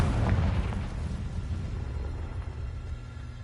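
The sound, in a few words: Confringo spell explosion from a video game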